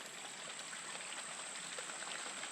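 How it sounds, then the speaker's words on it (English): Creek water flowing steadily past a small dam beside a trail, a faint continuous babbling rush with no voices. "Probably also helps slow the water down so it doesn't wash out this trail."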